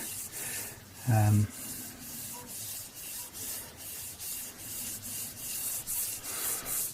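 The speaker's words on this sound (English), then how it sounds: "We need to then sand that down a little bit." Sandpaper rubbing the sharp edges of a 1980 Kay K30 Les Paul-style guitar, a quiet rhythmic scratchy back-and-forth with one short louder thump early on.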